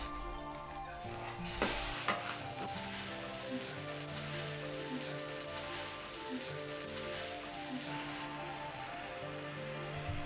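Hiroshima-style okonomiyaki set down on a frying egg on a hot griddle, with continuous close crackling sizzle, scattered pops and a couple of sharper scraping clatters, no voices.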